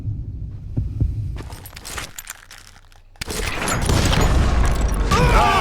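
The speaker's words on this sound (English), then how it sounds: "When you hear the heartbeat, you can draw your gun first" A heartbeat thumps during a Call of Juarez: Gunslinger duel, a low throbbing pulse under sparse clinks before the scene bursts into loud dense noise with a brief voice near the end.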